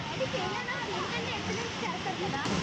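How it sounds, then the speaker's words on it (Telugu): Banjhakri waterfall in Gangtok gives off a steady, broad rushing roar, with people talking over it. "వాటర్ ఫాల్స్ అయితే బాగుంది."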